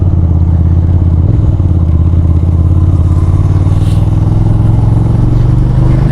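A home-wired motorcycle used for drag racing runs on a test ride in Australia after an oil change. Its engine drones loud and close with a steady rumble and a slowly rising pitch throughout.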